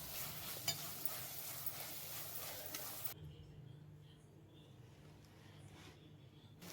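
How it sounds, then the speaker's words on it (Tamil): Tomatoes and onions sauté in a clay pot for a village-style fish curry, a soft steady sizzle with faint stirring, quieter after the first few seconds. "தக்காளி நல்லா வதங்கட்டும்."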